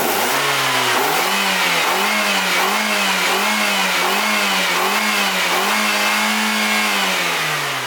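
A car engine running on nacho cheese in place of engine oil is revved repeatedly, its loud, close pitch rising and falling in a steady series of swells with no talking.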